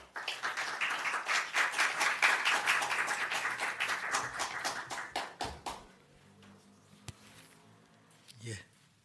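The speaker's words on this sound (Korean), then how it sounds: "나오실 때 박수로 맞아주시기 바랍니다" An audience at a pastors' seminar applauds as the guest speaker walks up, with loud, dense clapping that thins into scattered claps and dies away into near quiet.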